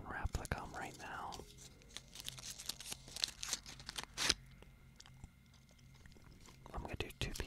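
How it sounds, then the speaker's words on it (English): Chewing gum wrapper unwrapped close up, soft crinkling and tearing rustles in scattered bursts, with a whispering voice at the start and quiet pauses between the crackles. "So I'm going to unwrap the gum right now."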